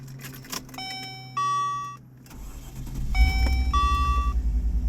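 Electronic chime tones ring out twice, and a 1988 Range Rover engine turns over beneath them, swelling into a steady low rumble that keeps running.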